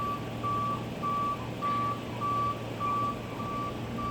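A tow truck's reversing alarm gives a regular series of loud, evenly spaced electronic beeps over a steady engine rumble, with no talk.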